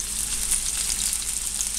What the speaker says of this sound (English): put the chicken in. It should sizzle a little bit, that's what you want.